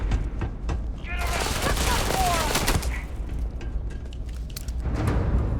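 A new pistol fires in Starfield with a run of sharp in-game shots and impacts, mixed with game effects and a low background bed, while a voice talks faintly at times.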